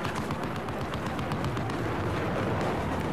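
Dense, continuous explosions and blasts from Battlefield 4, rumbling together, loud and chaotic with no clear gaps between booms.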